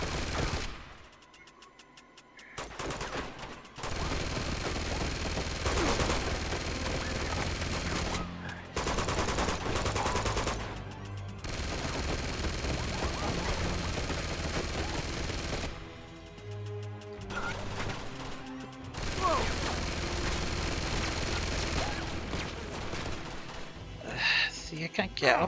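Gunfire in Uncharted 2: Among Thieves, bursts of rapid shots and rattling automatic fire that come and go in loud stretches amid game noise, broken by a few brief quiet gaps.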